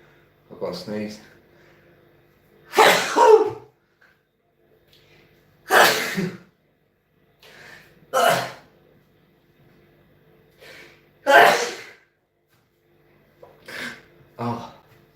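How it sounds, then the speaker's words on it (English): A person sneezes repeatedly, about six loud, sharp bursts with short inhalations between, spaced a couple of seconds apart in a quiet room, close to the microphone. "I've got a sneeze."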